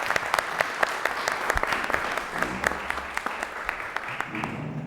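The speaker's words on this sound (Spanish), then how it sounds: "Un aplauso para ellos, por favor." An audience at a public deliberation debate contest gives steady applause to the participants, a dense crackle of many hands clapping that holds for several seconds before thinning out.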